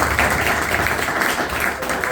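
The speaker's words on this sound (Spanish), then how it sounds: "Y pido para el doctor un muy fuerte aplauso." An audience at an evening talk applauds a doctor, a dense, sustained wash of clapping from many hands, fairly loud and continuous without any speech over it.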